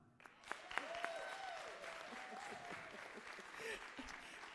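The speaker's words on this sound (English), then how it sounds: "can somebody clap for me, please?" Scattered clapping from a small audience at a city budget meeting, brief and uneven rather than a full ovation, with a voice and room sounds mixed in.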